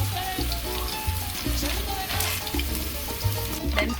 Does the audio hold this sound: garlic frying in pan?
yes